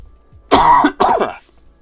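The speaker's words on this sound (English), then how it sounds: "while I cough through the whole stream." A single throaty cough followed by a harsh throat clear, close and loud, with quiet room noise around them.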